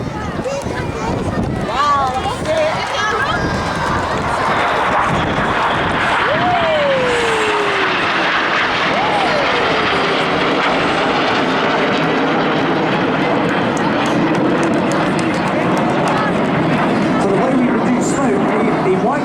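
A red, white and blue Tornado jet roars past at the Rhyl seaside airshow. The loud, sustained engine noise rises and sweeps in pitch as it passes, then fades to a long rumble. An announcer talks over a public address system underneath.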